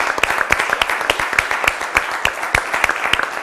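Audience clapping on an Italian quiz show, a dense run of sharp claps carrying steadily through the whole stretch at moderate loudness.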